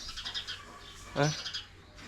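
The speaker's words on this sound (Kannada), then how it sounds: "ಗುಬ್ಬಚ್ಚಿ ಚೀವು ಚೀವು ಚೀವು ಚೀವು ಅಂತ" Several short, bright bird chirps like a sparrow, scattered and moderately close, with a faint voice and some background noise.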